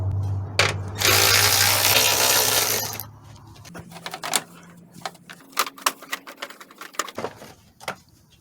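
A power tool whirs for about two seconds while the 10mm nut comes off the negative battery cable of a 2011–2020 Toyota Sienna, followed by close metallic clicks and clinks of the nut and tools.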